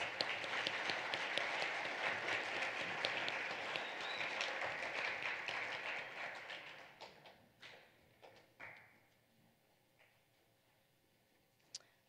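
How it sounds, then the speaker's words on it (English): An assembly audience applauds students of the blue ACT club, a steady dense wash of clapping that thins out after about seven seconds into scattered last claps and a final lone thump. "Please give these students in our blue ACT club a round of applause."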